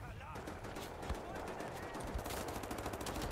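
Rapid automatic gunfire from the super gun in Wolfenstein: The New Order, a dense continuous rattle of shots packed with loud game combat noise from start to finish.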